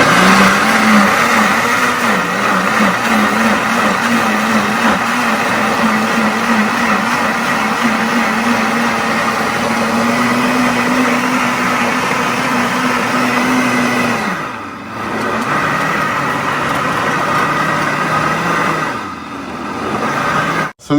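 Blender on medium speed processing onions, garlic and pickled ginger, a loud continuous motor whir with churning texture that dips briefly twice before cutting off at the end.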